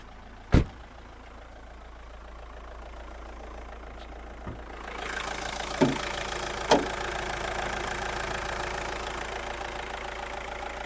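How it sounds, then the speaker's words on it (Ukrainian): A Skoda Octavia A5 1.9 TDI diesel engine idles with a low, steady rumble, with a few sharp clicks and knocks; the running sound grows louder partway through. "робота двигуна, двигун працює чітко"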